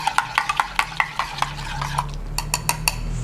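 A spoon stirs creamer into Hokkaido milk tea in a cup, giving a quick run of clinking taps against the sides, steady and close, with no talking.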